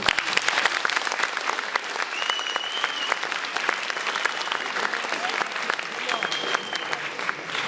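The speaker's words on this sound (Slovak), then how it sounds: "svojím potleskom ste práve vyjadrili súhlas s uvedeným" An audience at a school matriculation ceremony claps steadily and loudly, a dense wash of many hands that holds throughout.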